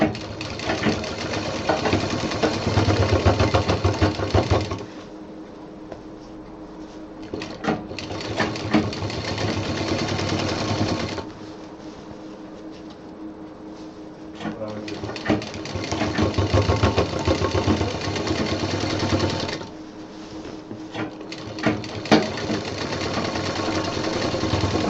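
A sewing machine runs double stitching along a handbag handle in long, rapid mechanical bursts of several seconds each, separated by short quieter pauses, close and clear.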